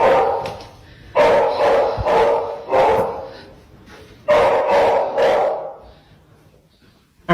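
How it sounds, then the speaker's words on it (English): Several dogs bark in loud, close bursts, a cluster of barks near the start and another after a pause, with quieter yips and whimpers in between, heard at night by a security camera. "how about we hush them dogs up?"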